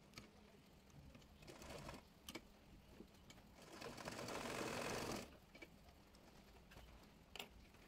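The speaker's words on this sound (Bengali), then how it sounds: "এবার ফিতার ঘর সেলাই করে নেব" A sewing machine stitches the drawstring casing of a churidar pajama in short bursts, with one longer, louder run in the middle; close and alone, with faint ticking between runs.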